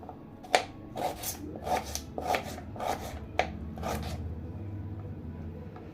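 Knife chopping ingredients into small pieces for chicken bagara rice, about six crisp, evenly spaced strokes on a board, close and moderately loud, followed by quieter rustling.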